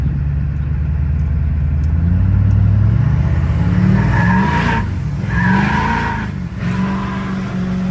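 An LB7 Duramax diesel truck accelerates hard on an open road, its loud engine roar rising in pitch, dipping at a gear change, then climbing again close by.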